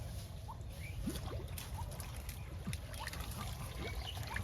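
Water trickles and dribbles slowly as it is poured, a faint, continuous light splashing close by in a quiet outdoor setting, with scattered soft chirps in the background.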